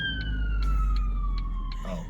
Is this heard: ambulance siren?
yes